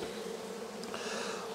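Honey bees buzzing steadily at a Dadant beehive, a dense continuous drone of many insects close by, with no voices over it.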